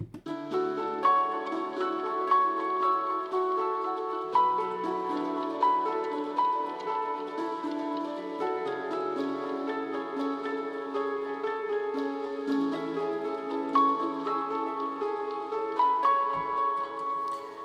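Layered synthesized piano plays a repeating melodic pattern with echoing, sustained tones blending into a smooth wash, no voices.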